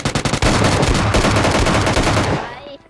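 A loud, fast burst of automatic gunfire in PUBG Mobile Lite, tightly spaced shots running continuously for a couple of seconds before ringing off.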